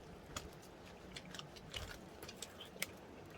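Chewy garaetteok rice cake is bitten and chewed up close beside an old-style earthen kitchen hearth, with soft, irregular mouth sounds and small squishes and no talking.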